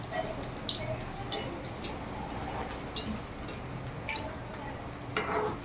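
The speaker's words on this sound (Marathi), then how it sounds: "असं त्याला हलवत राहायचं" Dal batti frying in oil in a pan while being stirred, a steady moderate sizzle broken by scattered light scraping clicks of the utensil against the pan.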